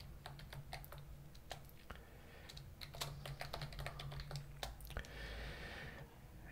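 Fingers type a terminal command on a computer keyboard, a steady string of close, crisp key clicks with brief pauses, faint overall with a soft background hum.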